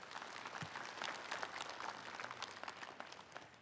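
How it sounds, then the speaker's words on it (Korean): A forum audience claps steadily for a few seconds, a soft, fairly distant patter of many hands in a hall with no talk over it. "강병준 KNN 회장에게 다시 한번 큰 박수 부탁드리겠습니다."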